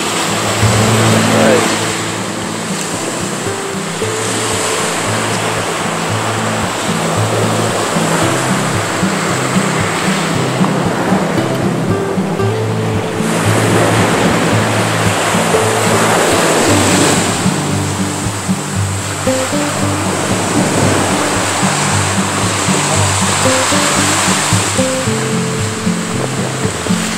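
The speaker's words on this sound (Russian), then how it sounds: "Волны красивые есть тут." Ocean waves breaking on a white-sand beach at Cancun, Mexico, a loud continuous surge and wash close by, with a low engine-like rumble underneath and brief swells in intensity.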